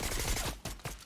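Rapid bursts of gunfire in a Fortnite zero build duo match, loud and close, a quick rattling volley that breaks off partway through the moment.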